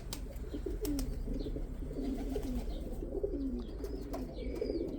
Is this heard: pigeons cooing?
yes